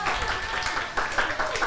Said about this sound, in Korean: 우리 전역한 우리 성원이 좀 다 박수